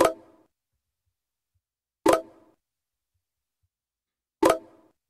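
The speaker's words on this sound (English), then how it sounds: "That's the notification for Grindr." Three short identical notification chimes from the Grindr app ring out on a phone, each a crisp plop-like blip spaced about two seconds apart, with silence between.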